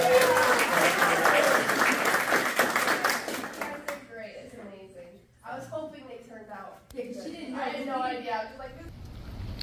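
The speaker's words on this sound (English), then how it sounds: "Clap for Olivia" Audience applause and clapping from a group of people, loud and dense for the first four seconds, then giving way to people talking with scattered claps in the background.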